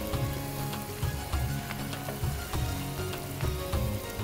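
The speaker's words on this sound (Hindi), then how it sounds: "अभी इसको हम अच्छी तरह से और भूनेंगे।" Mutton karahi gravy sizzles and fries steadily in a pan, a dense crackling hiss with small bubbling pops throughout, close and continuous with no talking.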